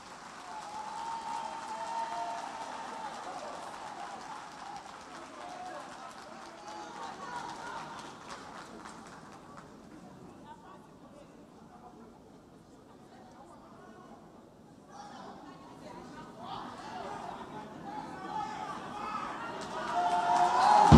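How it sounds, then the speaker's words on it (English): A round of applause for the President at the launch of the Nation Builders Corps, a broad, fairly distant crowd clapping that fades in the middle and swells again toward the end, with voices in the hall. "A round of applause."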